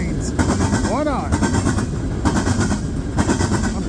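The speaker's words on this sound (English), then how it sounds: "There you go, coal train." A westbound CSX coal train passes east of North Baltimore, Ohio, close and loud, its wagons clattering in rhythmic bursts of clickety-clack over a constant rumble while a voice is briefly heard.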